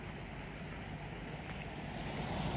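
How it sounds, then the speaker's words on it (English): Creek water in winter flows in a steady, broad rushing noise, continuous and fairly close, with no voices. "this creek is running like this"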